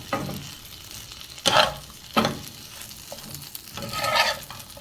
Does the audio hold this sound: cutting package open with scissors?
no